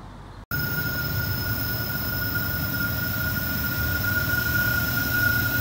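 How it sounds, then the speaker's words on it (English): A heavy freight train's locomotives rumble steadily past at close range, wheels grinding with a constant high metallic squeal over deep low rumble, no voices. "All right, here comes the train."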